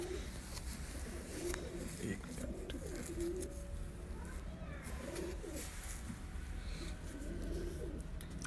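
Pure breeder pigeons cooing in a loft, soft repeated low coos rising and falling, mixed with other birds and a steady background hum, while people talk nearby.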